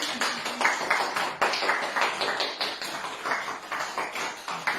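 Guests at a wedding clap along in a steady beat for the first dance, a continuous stream of crisp, regular claps at moderate loudness with no voices over them.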